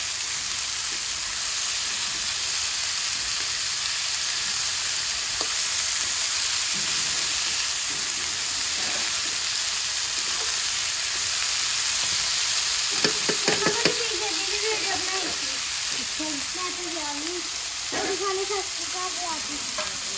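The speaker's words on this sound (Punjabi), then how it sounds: "ਪਹਿਲਾਂ ਜਿਹੜੇ ਪਿਆਜ਼ ਨੇ ਉਹਨਾਂ ਨੂੰ ਭੁੰਨ ਲਈਏ" Onions frying in a pan for home cooking, a loud, continuous close sizzle with occasional stirring scrapes, while voices start talking over it near the end.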